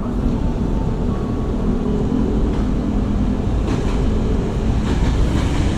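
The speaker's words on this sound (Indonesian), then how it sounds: "Nih ada kereta juga di belakang kayaknya guys." Steady low rumble of a train rolling past nearby, continuous and fairly loud, with faint rattling throughout.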